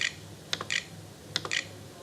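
Google search typed on a computer keyboard, a few short clusters of crisp key clicks in two bursts, close and fairly quiet, with no talking.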